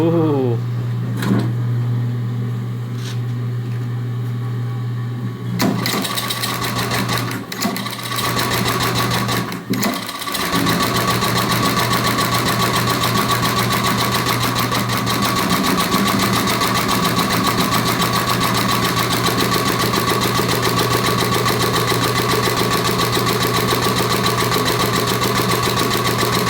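A homemade engine starts for the first time and runs with a steady, rapid mechanical hum and clatter, loud and close, after a few starting bumps, continuing evenly while people talk nearby.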